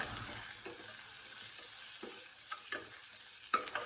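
Tomatoes, chillies and ginger-garlic paste sauté in a pan with a soft, low sizzle, punctuated by light scraping stirs that grow a little sharper toward the end.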